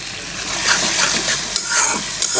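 Ground masala spices frying in hot oil alongside potatoes, a loud continuous sizzle and crackle with stirring scrapes rising and falling close up.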